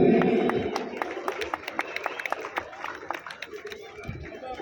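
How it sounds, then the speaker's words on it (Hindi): Stadium crowd at a Republic Day dog show clapping for trained dogs and their handlers, with scattered sharp claps rising into a steady round of applause over crowd chatter, then fading toward the end. "देखिए जोरदार तालियां।"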